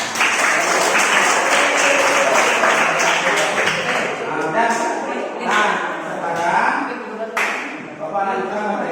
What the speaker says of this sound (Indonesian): kita tepuk tangan untuk semuanya